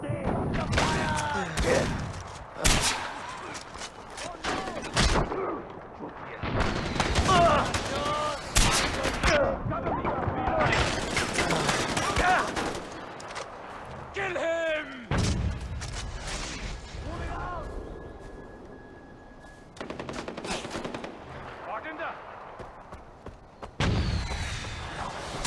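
Gunfire in the video game Far Cry 4 cracks out in repeated loud bursts and single shots, some heavy thumping blasts among them, with someone talking between volleys.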